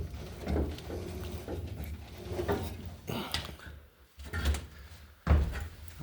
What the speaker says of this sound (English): Door operator.